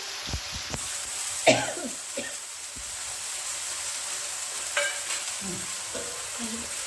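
Dhapate, a Satara-style flatbread, fries in oil on a pan with a steady hissing sizzle, broken by a few sharp scrapes and clatters close by.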